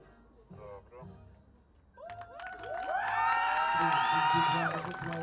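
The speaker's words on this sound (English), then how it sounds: "Big round of applause for the Netherlands" A crowd cheers and whoops for the Netherlands team at the finswimming Junior and Senior World Open Water Championship in Belgrade. Brief talk comes first, then the cheering swells loud and sustained, with high shouting voices.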